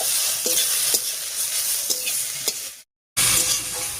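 Bottle gourd leaves fried and salted in a pan are stirred with a spatula, giving a steady sizzle broken by sharp scraping clicks, a brief silent gap, then the sizzle returns.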